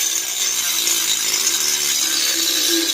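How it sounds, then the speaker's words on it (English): A Dremel rotary tool grinds continuously at reduced speed as it trims a Nissan 370Z long-tube intake tube, a steady close high-pitched whine and rasp with no pauses. "now I just gotta trim this again with my Dremel"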